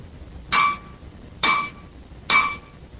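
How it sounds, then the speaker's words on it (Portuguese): A drumstick striking a glass of water three times at even intervals, each hit a bright ringing clink that decays quickly, close and clear with quiet between strikes. "quando eu bater com a baqueta no copo"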